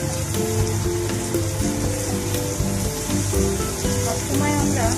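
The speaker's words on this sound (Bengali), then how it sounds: "আলুগুলো ভাজা হয়ে এসছে, এবার আমি পেঁয়াজ কলিগুলো দিয়ে দিলাম।" Onion stalks tossed into potatoes frying in oil, a dense close sizzle with light stirring clatter, steady and loud for a few seconds with no voices over it.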